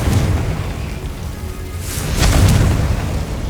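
A Confringo blasting spell explodes in the Hogwarts Legacy video game, two heavy booming blasts with rumbling debris, the second burst louder and sharper, each followed by a crackling tail.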